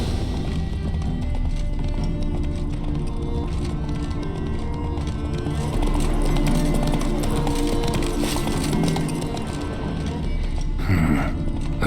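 Horse hooves clip-clop steadily at a running pace during riding in The Witcher 3, mixed with continuous game music and effects throughout.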